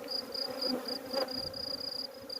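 Honeybees hum at a hive in a steady, close buzz, the droning rising and falling slightly as insects fly past.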